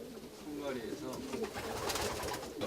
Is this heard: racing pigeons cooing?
yes